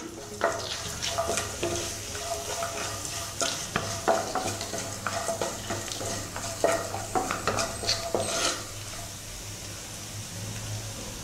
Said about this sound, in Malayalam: ഇത് നന്നായിട്ട് വഴറ്റിയെടുത്തിട്ടുണ്ട്.